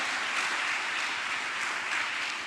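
A church congregation applauds during a sermon, a thick, continuous wash of many hands clapping at moderate loudness throughout.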